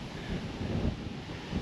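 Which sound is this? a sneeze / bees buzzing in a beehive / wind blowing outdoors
wind blowing outdoors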